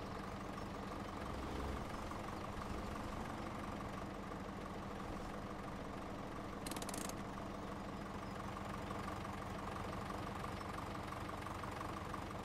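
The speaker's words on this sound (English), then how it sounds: "Massey sounds good sitting there idling" A Massey Ferguson tractor engine idles steadily with a low, even diesel rumble, constant and fairly close, with no talking over it.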